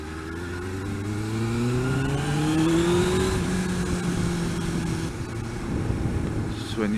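A motorbike engine pulls hard under acceleration, its pitch climbing steadily through the gears in one loud, close run that fades slightly toward the end.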